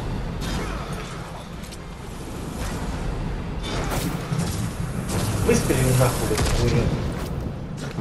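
Gunshots and blasts ring out in the action video game Darksiders Genesis, bursts of firing and impacts layered over busy game effects and music, with someone talking over the gameplay.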